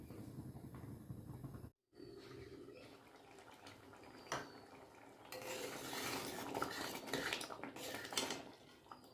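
Matar paneer, a dhaba-style peas and paneer curry, stirred in a pan, giving a continuous scraping and clattering of spoon against metal that grows busier and louder toward the end.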